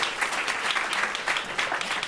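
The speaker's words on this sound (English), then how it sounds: "Please give them a round of applause." An audience at an agriculture and climate resilience event claps in sustained, dense applause, loud and steady with no talking.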